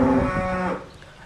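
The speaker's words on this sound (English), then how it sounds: "It's an important component of any farm, the cows." A farm cow moos loudly and close by in one sustained low call that fades out after about three-quarters of a second, leaving quiet ambience.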